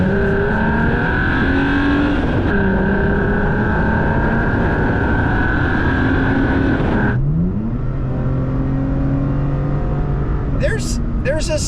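Toyota Tacoma with a TRD snorkel driving a curvy road, its engine droning steadily from inside the cab with pitch rising and dropping through gear changes, loud and continuous, ending with a brief high whine.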